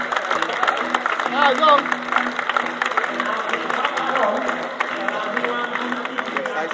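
Speedway crowd at Belle Vue applauds sidecar riders after the British Sidecar Speedway Championship final, steady clapping and cheering under an announcer's voice and a few nearby words.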